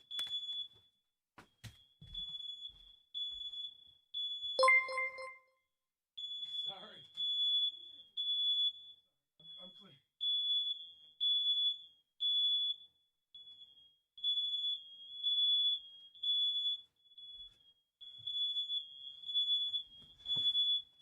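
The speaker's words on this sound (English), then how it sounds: "I gotta get the smoke alarm." A smoke alarm sounds in shrill, repeated high beeps in regular bursts as tape burns indoors, with a short burst of talking partway through.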